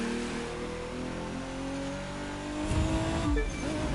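Race car engine in The Crew 2 on a San Francisco street circuit drones with a rising, shifting revving tone, then roars louder and rougher near the end, close and continuous.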